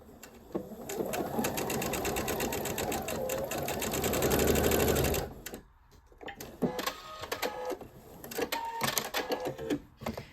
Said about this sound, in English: I'm going to sew these on the ends.